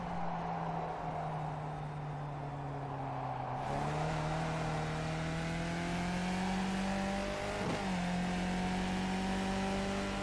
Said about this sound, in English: your engine's running at a higher RPM than it really should be